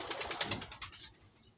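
A pigeon shakes out its body and flaps its wings, giving a close run of quick, rhythmic fluttering beats that fade into quiet.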